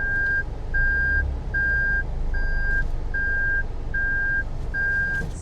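A turbo kei camper van sounds its reversing alarm while parking at an RV park, a loud, steady series of seven evenly spaced electronic beeps over continuous engine and outdoor rumble.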